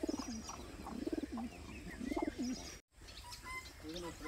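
Rampuri pigeons, a breeding hen among them, coo in repeated soft rolling phrases at close range over a steady background hum, with faint chirps mixed in and a brief dropout near the end.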